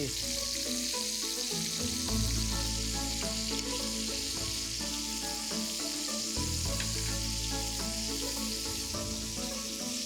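Lamb sizzles loudly and steadily in a frying pan, a continuous dense crackle of fat and juices lasting the whole stretch with no voices.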